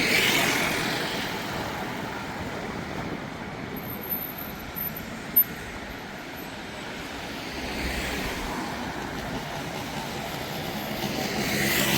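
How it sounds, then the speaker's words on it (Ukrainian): A tram rumbles past at a distance in Casablanca's Anfa district, Morocco, a steady low roar that swells and fades, with no voices. "Ось там трамвай поїхав."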